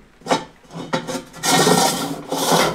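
Steel square tubing slides into a larger tube in a workshop, producing close scraping and rasping metal-on-metal friction in a few strokes followed by a longer sustained grind.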